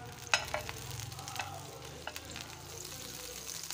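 Butter melts on a hot pan with a gentle, continuous sizzle, a sharp tap early on and a few scraping, stirring clicks as it spreads, heard close and without talk.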